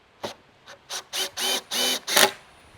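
A power driver sets GRK screws into window framing boards: about six close, loud whirring bursts, short at first and then longer, each ending abruptly, with quiet gaps between.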